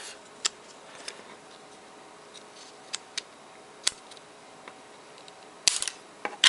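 A part is cut off while a camera lens is installed on a Mobius camera mounted on a Quanum Venture FPV quadcopter. Sharp snips and small clicks sound sporadically against a quiet background, ending in a quick cluster of cuts.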